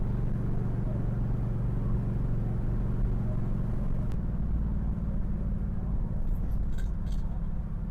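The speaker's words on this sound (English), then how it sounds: "Waiting for the car to warm up so I can try to peel out." A muscle car with QA1 suspension upgrades idles while warming up, a loud, steady low rumble close by that shifts in tone midway, with a few brief faint clicks near the end.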